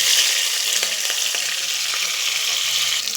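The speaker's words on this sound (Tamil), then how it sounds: "பார்த்திங்கன்னா எண்ணெய் நல்லா சூடாகிடுச்சு. இப்போ நம்ம என்ன பண்ணணும்னா, நம்ம வெட்டி வச்சுருக்கிற பச்சை மிளகாவையும் பிரியாணி இலையும் நம்ம போடுறோம்." Green chillies and bay leaves fry in hot oil for a mushroom biryani, giving a steady, close, bright sizzle with a few sharp crackles and pops and no talking.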